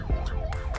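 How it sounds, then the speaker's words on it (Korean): An ambulance siren wailing nearby in a short, loud, rising-and-falling burst over traffic rumble. "지금 이게 앰뷸런스가 지금 해서 죄송합니다"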